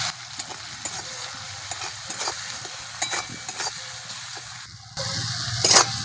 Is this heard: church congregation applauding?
no